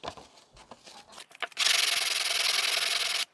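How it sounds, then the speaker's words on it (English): A sanding block rubbed on sandpaper to clean a garden secateur jaw on a bench: a few light scrapes, then a loud continuous rasping rub for about two seconds, up close with no talking. "we can use a sanding block on the sandpaper"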